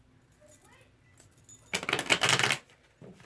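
A deck of tarot cards is shuffled, giving a close, crisp burst of riffling and flicking that lasts under a second, with quieter handling clicks before and after.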